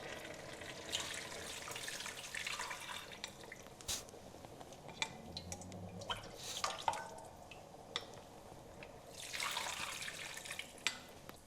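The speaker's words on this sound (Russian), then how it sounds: "И теперь уже добавляем бульон. Обязательно процеживаем через ситечко." Broth for home-style borscht is strained through a small sieve into a pot of vegetables and meat, giving a faint, uneven trickle and splash of liquid with scattered drips, heard close and without talk.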